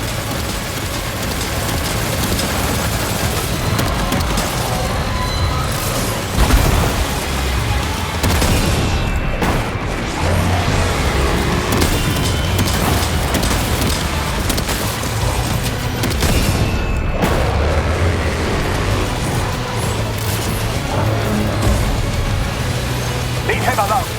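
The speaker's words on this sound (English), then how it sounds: "Opening fire now" Gunfire and explosions in Death Stranding 2 on PS5 Pro: a dense, loud, continuous barrage of shots and heavy booms that rumbles on without a break, with voices talking over the combat.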